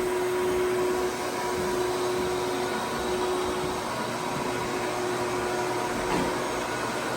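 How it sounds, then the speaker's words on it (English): A vacuum cleaner sucks dirt off the floor inside a homestead log cabin, giving a loud, steady whining roar with a constant tone that runs unbroken throughout, with no voices. "That vacuum's sucking up."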